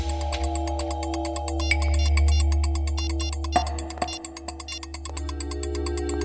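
Phone ringing tone on a call, a repeating electronic ring pattern with steady pulses over a low hum, clear and fairly close, with no speech.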